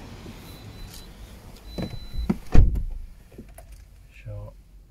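Rear electric windows of a Toyota Verso Icon 1.6 D-4D whir briefly inside the cabin, a short motor hum with a soft thunk as the glass stops, amid quiet interior background.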